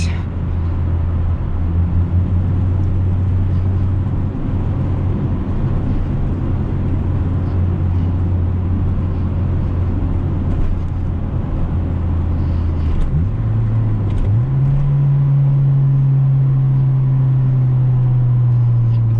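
Steady engine drone inside a 1997 Acura Integra while driving, holding a low hum before the pitch drops and then climbs as it downshifts, with road noise underneath.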